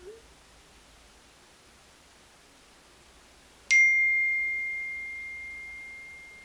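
An iPhone XS notification chime sounds once after a stretch of faint hiss, a bright ding whose clear tone rings on and slowly fades.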